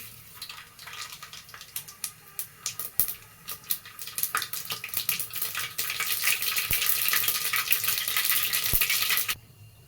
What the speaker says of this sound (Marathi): हे लवंग पण टाकून घेऊया ह्या हे चक्रीफूल पण टाकून घेऊया हे मोहरी